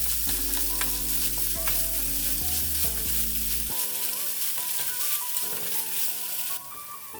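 Breakfast food sizzles and fries in a pan while a utensil stirs and breaks it up, scraping steadily and close by for several seconds, with no talking.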